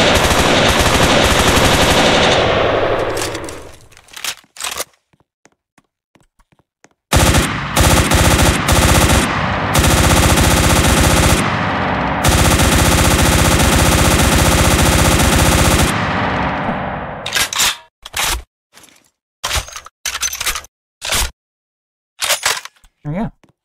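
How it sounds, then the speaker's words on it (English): Loud bursts of automatic gunfire from guns in the SSRP video game, a long sustained spray followed by short scattered bursts, with voices talking in places. "yes, we are going to make the guns a bit quieter."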